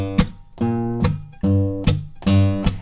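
A low bass line from a Hill Country blues riff in standard tuning, plucked in a repeating pattern of sustained notes, about five attacks in under three seconds, played alone.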